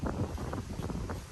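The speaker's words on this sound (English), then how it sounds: "it's very windy out here. You might hear the wind in the background." Low, rumbling wind gusts buffet the microphone outdoors, with faint muffled voices underneath.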